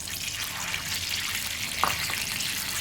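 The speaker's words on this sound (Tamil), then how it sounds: "எண்ணெய் ஊற்றிக்கோங்க." Cooking oil poured into a kadai for a gongura chicken dish makes a soft, steady liquid hiss and trickle, near and fairly quiet, with one brief clink partway through.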